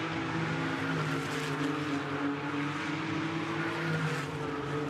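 Porsche Cayman race cars thunder around the Brands Hatch circuit, and their engines give one continuous loud droning roar that holds steady and dense, with no voices over it.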